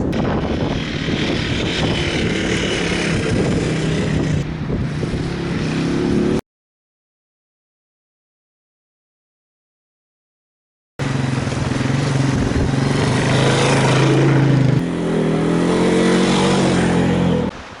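A Yamaha 225DX three-wheeler ATV riding on a trail in strong wind, its engine droning and revving loudly alongside heavy wind buffeting, broken by a few seconds of silence partway through.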